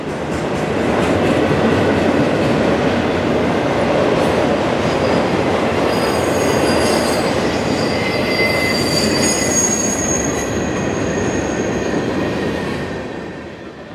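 Florida East Coast Railway northbound train 240 passes close and loud, a dense rolling roar with wheel squeal and high metallic screeches in the middle, easing off toward the end.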